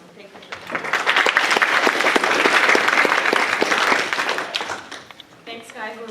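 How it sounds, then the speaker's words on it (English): Audience applause for presenters at a talk fills the room, swelling into sustained dense clapping that holds for several seconds before tapering off as a voice begins speaking. "let's give them all a round of applause and thank you for coming"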